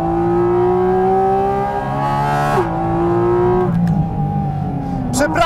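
A race car driven fast on a track roars loudly, its engine note holding high then dropping with gear changes and climbing again, steady and close.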